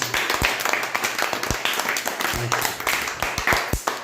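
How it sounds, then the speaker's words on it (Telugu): Children in a classroom clapping together for a classmate after a letter-recognition game, a dense patter of small hands with occasional louder claps and voices mixed in. "మన పూర్ణిమ క్లాప్స్ కొట్టండి"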